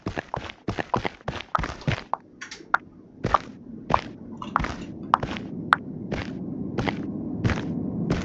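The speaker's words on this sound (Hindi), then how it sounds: "अरे ये तो वही वुमेन के पैर की आवाज़ है।" A woman's footsteps in the horror video game Akai Onna: a quick run of close, sharp steps, then slower, evenly spaced treads over a low droning rumble.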